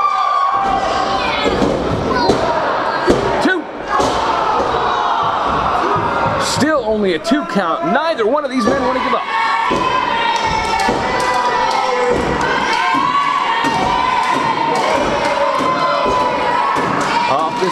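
A hot crowd at a live independent wrestling match cheers and shouts continuously through an opening bout, with ring thuds and a commentator talking over the roar.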